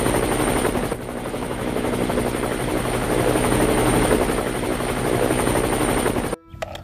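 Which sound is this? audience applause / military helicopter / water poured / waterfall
military helicopter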